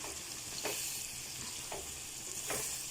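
Kidney and liver curry (gurde kaleji) frying in a pan as salt is mixed in, a soft, steady sizzle broken by three evenly spaced scrapes of a spoon stirring, quiet and close, no talking.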